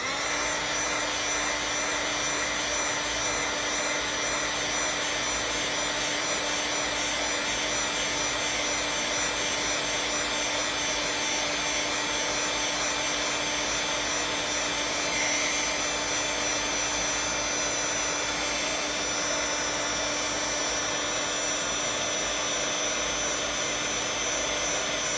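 Steady, unbroken blowing whir of a heat tool warming shrink plastic, loud and close for the whole stretch with a constant hum and no talking.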